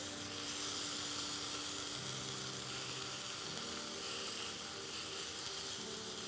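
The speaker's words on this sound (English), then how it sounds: "I'm gonna get that nice sear on there" Beef rouladen searing in a hot pan gives off a steady, broadband sizzle that holds at an even level throughout, close and continuous, with no talking over it.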